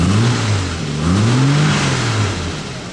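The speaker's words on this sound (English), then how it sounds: "Let it idle and then give it a quick blip. It's very fast, just jab on the throttle." A cold Jaguar E-type engine runs loud and close, its low idle note rising and falling through quick throttle blips that swing the pitch up and back down.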